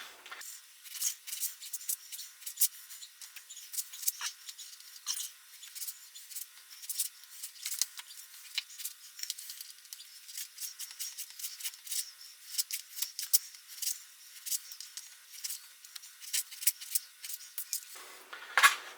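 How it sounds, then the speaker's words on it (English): A knife cuts up raw British lamb and trims away gristle, giving quiet, scattered clicks and soft scraping taps against a board throughout, with no talking. "If you find any really stubborn bits of gristle, just cut them away."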